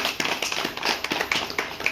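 Audience at a religious gathering clapping to welcome guests, a brief scatter of uneven handclaps at moderate distance, loose and unsynchronized.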